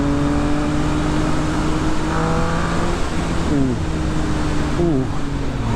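A 2020 Triumph Speed Triple RS motorcycle engine pulls through third gear under steady wind roar, its tone climbing and dipping with gear changes.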